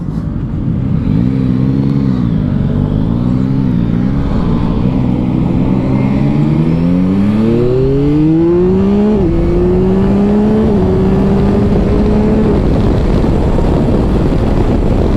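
A 2024 Yamaha Tracer 9 GT+ motorcycle engine, loud and close, pulling hard with its pitch climbing steadily, then stepping down sharply at each quick upshift into fifth gear before rising again.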